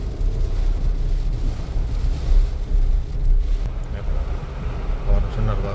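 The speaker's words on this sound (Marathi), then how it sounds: "हे बघा इथे बघा पाणी कसं उडतंय." A Suzuki Jimny 4x4 pushes at speed through deep floodwater in Powai, with a loud, steady rush of splashing water and engine rumble, broadband and continuous throughout with no voices.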